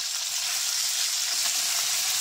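Pork steak frying in butter in a pan while being stirred, a loud, dense, continuous sizzle close by with faint scraping under it.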